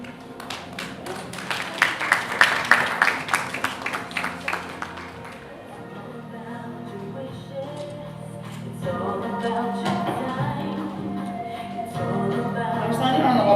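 An audience at an International Women's Conference breaks into a round of applause, with dense, close clapping that peaks early and then fades. Room noise and a speaking voice follow and carry on afterward.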